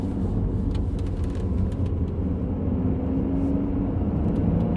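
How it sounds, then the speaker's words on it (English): Supercharged engine of a Cadillac Blackwing pulling hard at low revs, a steady deep rumble with a faint rising whine, heard from inside the cabin without pause. "Gotta love the supercharger."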